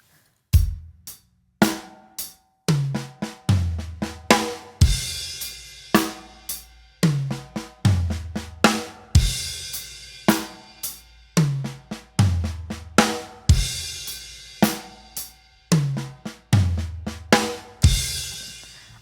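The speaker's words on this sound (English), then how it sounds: "So here's what this sounds like at a very slow tempo." A drum kit plays a 16th-note accent fill at a very slow tempo, with a repeating pattern of accented drum and cymbal hits and quieter strokes between them. The playing is close, loud and clear, with no talking.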